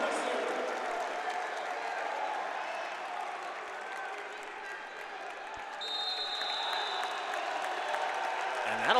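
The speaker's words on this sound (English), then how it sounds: "And that'll fire the crowd up again." A crowd in an arena applauds and cheers with a broad, sustained roar during a college wrestling dual meet between NC State and Army, heard behind a commentator speaking throughout.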